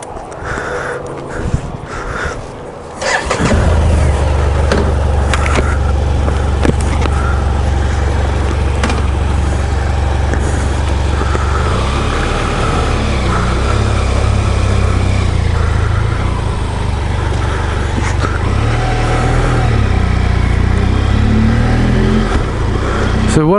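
A BMW F700GS motorcycle being ridden: the engine catches after a brief start and then drones steadily and loudly at a constant pace, with a slight rise in pitch near the end.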